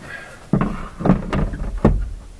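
Folding camping chair being stowed back into the tailgate of a VW T6 California Ocean camper van: three solid, close clunks spaced about half a second apart, with no talk.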